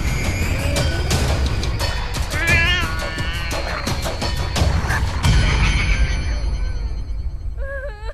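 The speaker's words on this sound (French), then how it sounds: "J'entendais les bruits que faisait mon chat, qui se battait contre l'ennemi" A cat fighting indoors at night lets out loud, drawn-out yowls and wavering caterwauls, mixed with sharp knocks and thumps, ending in a tense, rising howl.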